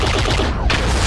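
Dense weapon volley from mech combat in a video game, a continuous roar of fire with a sharp burst of impact about two-thirds through, loud and close throughout.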